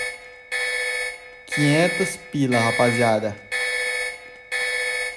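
A fire-style alarm blares in the mobile game PUBG New State after a vault is opened, a steady electronic tone sounding in repeated bursts while someone talks loudly over the middle of it.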